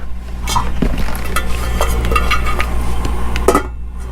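A lid goes onto a pot of eggs set on a lit gas stove burner, giving a few light metallic clinks and clatters against a steady burner hiss.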